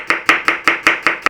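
A kitchen knife chops onions on a board for beef and onion jam, about seven quick, evenly spaced cuts with sharp attacks, loud and close, with no talking.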